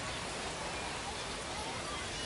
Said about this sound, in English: But still getting a little light rain here at the ballpark.